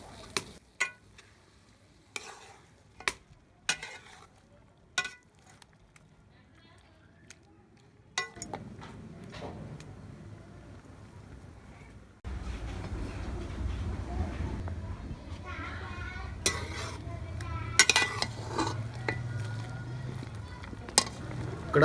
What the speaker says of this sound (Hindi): तो तेज़ आग जलाकर हम गोश्त की बुनाई करेंगे।